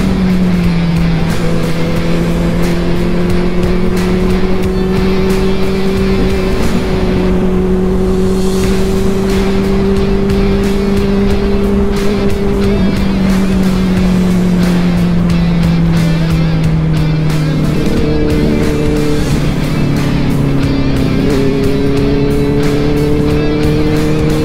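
A Benelli 600 motorcycle engine drones loud and steady on a long highway ride, its pitch holding then dipping and rising again as the rider shifts and changes speed, with wind rush throughout.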